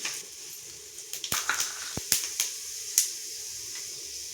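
Mustard seeds, fenugreek, cumin and pepper crackle in hot oil for a Tamil oil brinjal kuzhambu, with a steady close sizzle broken by a few sharp pops and spits.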